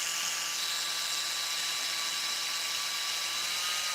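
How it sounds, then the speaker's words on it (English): Running on a dying battery, a cordless drill keeps grinding through metal in a continuous high whine, loud and close, holding steady over a few seconds with no voices. "Yeah, I can hear my drill dying."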